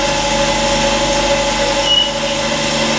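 A 46 grit 38A grinding wheel, roughly K or J hardness, grinding a steel collet block, with a loud, steady whine and rough hiss that carry on without a break.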